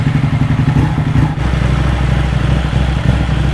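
A Ducati motorcycle engine runs rough at idle close by, its loud uneven pulsing beat lumpy and irregular, with a brief stumble before settling into a slightly steadier but still ragged chug.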